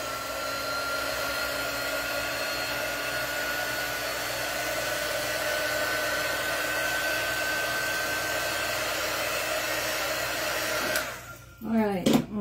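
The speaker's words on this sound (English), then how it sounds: "I'm going to take a little bit of a dryer to this." A hair dryer blows with a loud, steady whooshing whine for several seconds, then switches off abruptly near the end.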